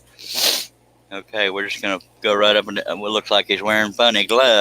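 A single sharp, breathy sneeze bursts out near the start, then someone talks steadily right afterward.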